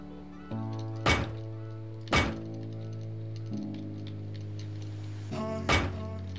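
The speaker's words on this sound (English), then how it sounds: "So now we're going to add the doors" Three heavy building-placement thunks as doors are set around a base in the survival game Rust, evenly spaced over a low sustained hum of in-game ambience.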